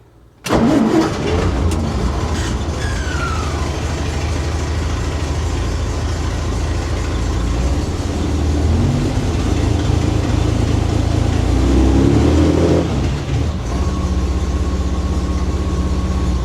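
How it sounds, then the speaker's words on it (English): An off-road wrecker truck's engine cranks and catches, then settles into a steady, loud idle that runs on without a break. The deep rumble continues evenly to the end, and no voices are heard over it. "The wrecker's been running for a while now, so I know it is getting fuel from the fuel tank."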